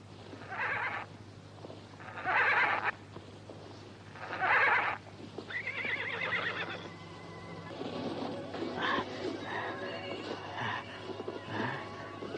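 A horse whinnies in several loud, drawn-out calls spaced a couple of seconds apart, followed by softer animal cries and faint background noise, with no clear talking.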